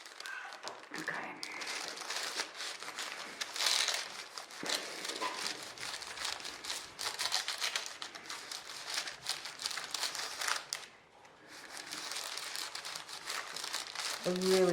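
Sheets of baking paper crumple and crinkle close up in a crafting session with an iron, giving a dense, continuous rustle with a brief lull near the end.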